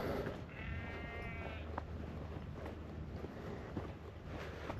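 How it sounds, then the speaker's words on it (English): A sheep bleats once in the distance, a wavering cry over steady wind noise outdoors at Sowdley Wood. "there's the sheep up there, blaring away."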